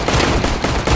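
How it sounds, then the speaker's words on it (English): Rapid gunfire from a weak pistol in the video game Counter-Strike: Global Offensive, Arms Race mode, a dense burst of loud shots filling the whole second with no talk over it. "This crappy pistol does not do much damage."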